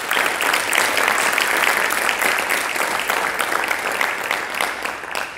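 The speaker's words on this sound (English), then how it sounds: "Another round of applause," A large audience claps at a conference, producing loud, dense, sustained applause that stays strong throughout and thins slightly toward the end.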